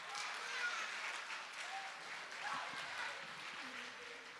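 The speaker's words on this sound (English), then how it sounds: "So let's give them a round of applause." Audience applause at a middle school assembly, a steady wash of clapping from a crowd of students and staff that holds at an even level throughout, with faint voices mixed in.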